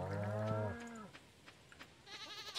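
A cartoonish cow moos once in Stardew Valley as it is petted, a short, clear call. Faint soft game sounds and quiet clicks follow.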